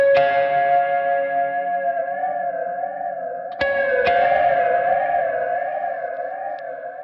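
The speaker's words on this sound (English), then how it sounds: "That's the sine wave." A sustained, warbling tone from a Walrus Audio SLÖ reverb pedal sweeps slowly up and down in a steady sine-wave wobble, drenched in reverb, with a couple of sharp clicks partway through.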